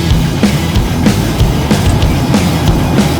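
A Polestar 2 electric car with 408 horsepower pulls away from a traffic light, giving a loud, close rush of road and tyre noise with rhythmic thumps from the road surface and no engine note.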